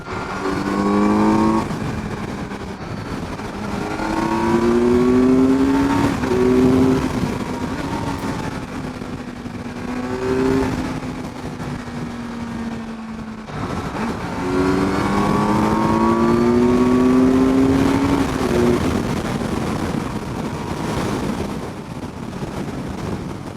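A 2022 Kawasaki Z900 50th Anniversary Edition, nearly new, rides with its engine rising and falling in pitch through repeated accelerations and gear changes, loud and close, with wind rushing over the microphone and no talking.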